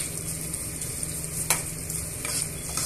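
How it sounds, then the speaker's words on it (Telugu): Green beans and onion pieces stir-frying in a pan for a dry beans fry, a steady close sizzle with a few scraping stirs of a spoon, no voices. "ఇలా ఉల్లిపాయ ముక్కల్ని కూడా వేసుకున్న తర్వాత ఇలా అన్నీ కూడా ఫ్రై చేసుకోవాలి"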